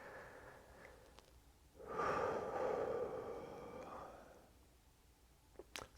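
A single deep breath is drawn in and let out, rising as a broad rushing swell for about two seconds before fading, close and fairly quiet with no talking.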